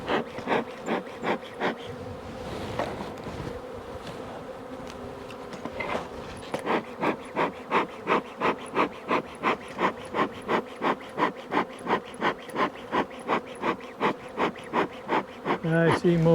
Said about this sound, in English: It's a real pain when there's so many bees in the honey house.